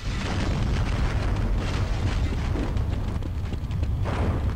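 Explodable objects blow up in the game Half-Life, a dense, sustained roaring blast with rumbling low end that swells again near the end.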